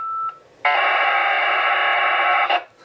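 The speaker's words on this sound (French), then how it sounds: "il fait juste un bip court" On APRS reception, a Yaesu FTM-100 radio gives a brief short beep, then a loud steady data burst of nearly two seconds that cuts off sharply. No one speaks.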